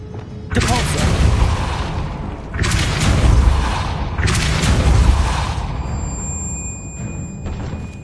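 Depulso spell cast repeatedly in Hogwarts Legacy, three loud booming bursts in quick succession, each a heavy blast with a rushing tail, under a voice speaking.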